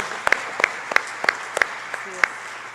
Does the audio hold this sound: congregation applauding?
yes